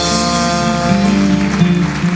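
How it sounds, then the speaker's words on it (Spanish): A church congregation applauds steadily throughout, the clapping spread over sustained musical tones from instruments playing underneath. "Dale un aplauso al Señor"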